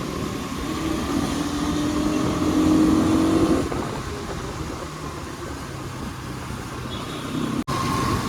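2024 Bajaj NS 200 motorcycle riding through the city, its exhaust note a steady buzzing drone with a slight rise in revs early, then settling, mixed with wind noise and no talk.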